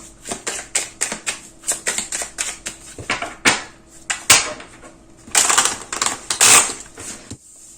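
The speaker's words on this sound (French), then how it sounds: "On va regarder avec l'oracle vite fait. On va sortir de 2-3 cartes." Oracle cards drawn and shuffled from a deck during a tarot-style reading: a rapid run of crisp card flicks and snaps, close and fairly loud, with brief pauses between bursts and no talking.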